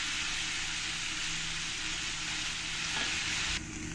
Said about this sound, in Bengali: এবার আমি চিংড়ি মাছগুলো দিয়ে দেবো, দিয়ে একটু ফ্রাই করে নেব।